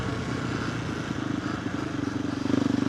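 A KTM 390 Adventure R fitted with a Norifumi Whoops exhaust idles and burbles at a steady low pulse, the single-cylinder thump growing slightly stronger and more rhythmic toward the end, heard fairly quietly without talk.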